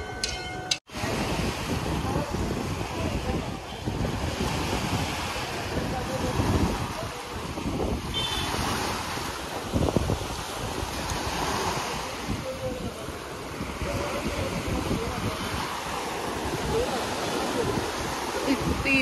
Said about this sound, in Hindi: अभी हम लोग जा रहे हैं समुद्र के किनारे। वो आ गया समुद्र अभी